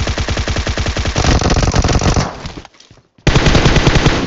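Automatic gunfire in the battle royale game BGMI: loud, rapid bursts of shots, then a brief silent gap before another sustained burst resumes.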